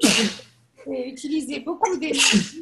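A single sharp sneeze bursts out at the start, loud and close, then a person begins talking right after it.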